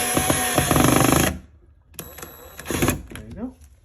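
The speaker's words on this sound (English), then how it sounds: "and drill it right into the wall." A power drill drives a screw into a wall while installing a safety lock: a loud whirring burst, a brief pause, then shorter stuttering pulses of drilling.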